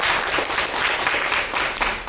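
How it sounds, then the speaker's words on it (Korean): A university class in a lecture on HCI task analysis breaks into brief, dense applause after student presentations, a short continuous burst of many hands clapping. "없으면 우리 박수 한번 칠까요?"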